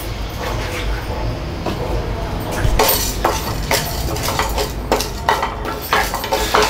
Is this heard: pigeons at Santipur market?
no